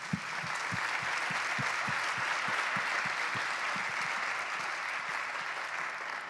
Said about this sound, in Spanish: Por favor, un aplauso para ellos.